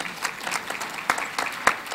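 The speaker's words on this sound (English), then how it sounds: "Let's give Brother Alim another round of applause, please." Audience at a health workshop breaks into applause, a dense patter of many hands clapping with uneven peaks, moderately close and without speech over it.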